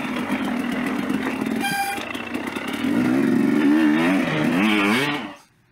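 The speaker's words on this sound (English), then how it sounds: "2019 KTM 250XC is running good." A 2019 KTM 250XC two-stroke carbureted dirt bike runs nearby on a hill trail, its engine droning steadily and then revving with rising and falling pitch before cutting off abruptly.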